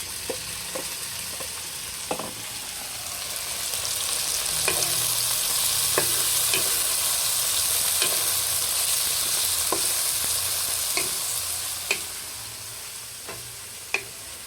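Bitter gourd and tomato sauté in a hot pan, a constant sizzling hiss broken by sharp clicks and scrapes as a utensil stirs the mixture.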